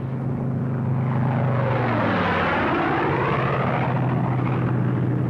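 A World War II Republic P-47 Thunderbolt single-engine fighter passes overhead, its big radial propeller engine building to a loud sustained roar with a sweeping pitch shift as it flies by.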